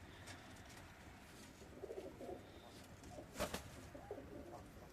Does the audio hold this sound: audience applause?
no